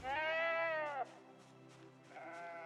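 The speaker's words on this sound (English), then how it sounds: "I'm going to put down the sheep." A sheep bleats loudly in the ARK video game, a drawn-out wavering cry that breaks off sharply, then after a quieter pause a second, softer bleat begins.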